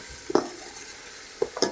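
A spoon stirs tempering spices in a hot pan while cooking mutton at a house party, giving a few short scraping clinks over a faint low sizzle.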